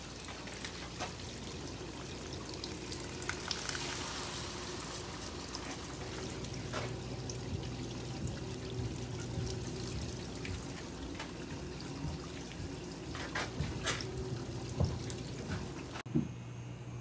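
Water running from a tap into a kitchen sink drain during a leak test on redone sewer piping, a faint, steady trickle and splash with a few drips, continuous and fairly distant.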